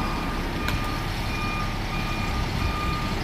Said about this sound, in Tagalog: Ito yung engine nila dito.